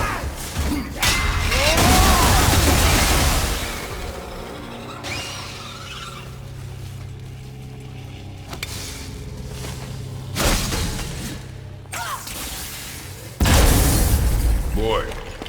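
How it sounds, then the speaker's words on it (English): Objects shattering in the video game God of War, heard as several loud bursts and crashing impacts with clattering debris, spread between stretches of quieter game ambience and mechanical sounds. "I will never get tired of shattering things with this."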